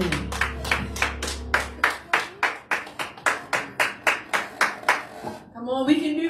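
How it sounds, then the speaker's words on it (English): A church congregation claps for the men's choir during a fourth-Sunday service, with about fifteen sharp, evenly spaced claps in a steady rhythm, fairly close, followed by a brief voice at the end. "Give them a hand clap."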